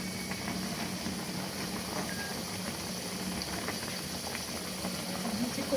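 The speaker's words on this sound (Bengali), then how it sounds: "দেখবেন কচু সুন্দর করে সিদ্ধ হয়ে গেছে" Taro pieces boiling in a pot of water, a continuous bubbling churn that stays steady and close throughout, with no voices.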